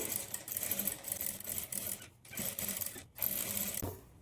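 A sewing machine stitches a blouse neck piping, its motor whirring in a steady continuous run with two brief pauses where the needle stops, then resuming close and clear with no talking.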